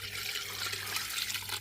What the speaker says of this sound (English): I'm adding water